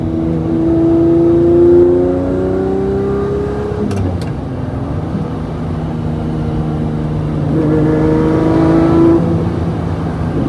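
A Lamborghini Murcielago LP640 V12 engine revving hard as it downshifts through the gears, with blips around each shift and a loud, sustained roar rising and falling.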